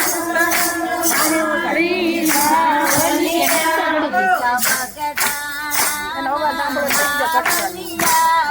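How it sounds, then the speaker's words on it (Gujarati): A Bhavnagar satsang group claps along to a Gujarati devotional bhajan, steady rhythmic hand claps sounding under loud group singing and melodic accompaniment throughout. "તાળીઓ પાડો ને અવાજ ઓછો આવે"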